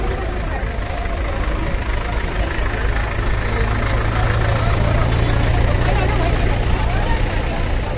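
Farm tractors idling together during a farmers' tractor parade, a steady loud low rumbling drone that stays constant throughout with no talk over it.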